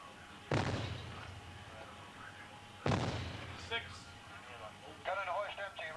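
Two heavy blasts from a warship's naval gun a couple of seconds apart, each booming then decaying, with faint radio-like voices and chatter in between.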